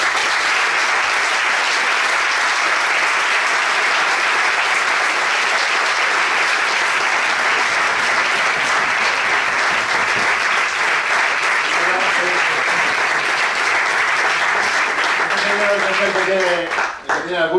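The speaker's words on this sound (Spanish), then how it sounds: "les damos un gran aplauso y las gracias por haber venido" Long, steady round of audience applause after a round-table book event, dense and even throughout, with a voice starting to speak as the clapping fades near the end.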